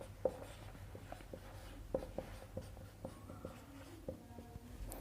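Pen writing on paper during a maths lesson, with close scratchy strokes and small taps in an irregular rhythm over a low steady hum, and no voice.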